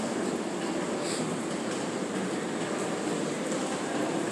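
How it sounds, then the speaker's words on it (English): A New York subway S train rumbles with steady, broad noise throughout, close and fairly loud, with no break in the sound. "Look at the train. The S train."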